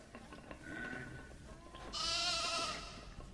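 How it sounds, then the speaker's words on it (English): Lambs bleat in the Planet Zoo video game, two or three short wavering calls, the last one louder and longer, standing out clearly over a quiet background. "We have lambs."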